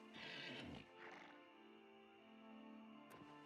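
A horse in the video game The Elder Scrolls IV: Oblivion Remastered neighs loudly at the start, a high whinny that trails off, followed by softer animal snorts and a faint tonal background hum.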